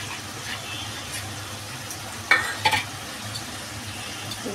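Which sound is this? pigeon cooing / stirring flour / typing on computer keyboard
stirring flour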